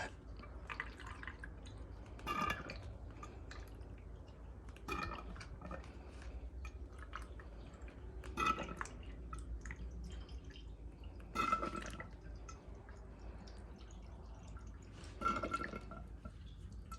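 Distilled water dripping and trickling while a custom PC water-cooling loop is filled, with soft repeated drips and a few brief louder splashes over a quiet, steady background.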